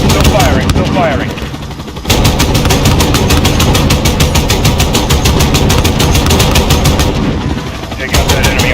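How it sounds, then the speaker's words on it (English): Aircraft guns firing in Modern Warfare, long loud bursts of rapid automatic fire with a deep engine drone underneath, pausing briefly before resuming, with a voice speaking over the barrage. "Guns, guns, guns. Still firing, still firing."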